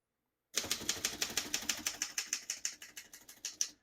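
Rapid, even keystrokes on a 1935 Corona Sterling portable typewriter clatter one after another, crisp and close, about twenty sharp strikes with no talking.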